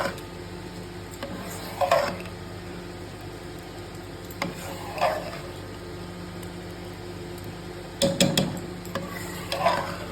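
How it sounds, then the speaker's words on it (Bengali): Hot khichuri being stirred in a pot, a few separate bursts of scraping and clinking from the spoon at intervals, soft and close against a quiet background hum. "ভালো করে একটু গরম গরম অবস্থায় একটু মিশিয়ে নেব।"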